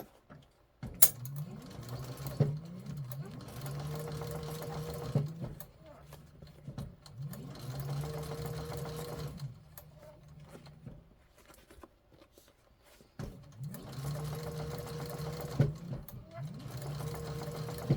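Sewing machine stitching a handbag on a flatbed, running in bursts of steady motor hum with pauses between seams, close and moderately loud.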